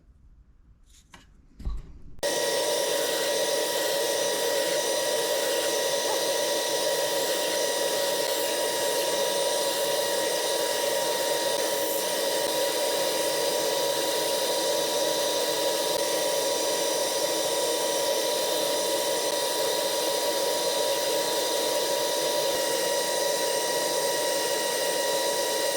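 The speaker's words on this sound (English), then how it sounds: "So now we have a lot of sanding and fixing to do." A power sander works a wooden musky jerk bait lure, a loud, steady motor whine that starts abruptly after a brief quiet moment and runs unbroken to the end.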